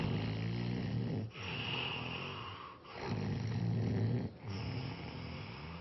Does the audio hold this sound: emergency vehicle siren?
no